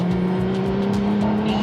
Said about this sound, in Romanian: Fluieratul ăsta pe care l-auziți este de la frâne